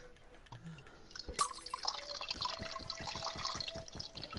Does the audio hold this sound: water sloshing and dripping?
yes